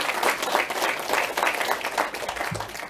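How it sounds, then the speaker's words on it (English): Audience applause fills a room at a humanitarian talk on post-pandemic recovery, steady dense clapping from a crowd sustained for the full three seconds. "could we just give you a big round of applause for the work you've done?"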